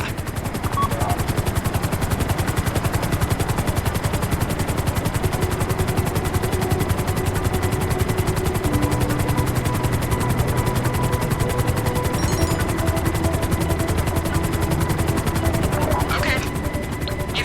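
Sustained gunfire and explosions in the GTA 5 Online Diamond Casino Heist, dense rapid machine-gun bursts over a constant helicopter rotor drone, loud and continuous with faint voices mixed in.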